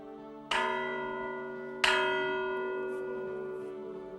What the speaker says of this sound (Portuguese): Pois, como veem, tem aqui uns excelentes sinos.